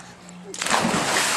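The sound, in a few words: splash of someone jumping into water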